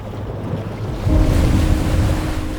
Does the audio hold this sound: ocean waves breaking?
yes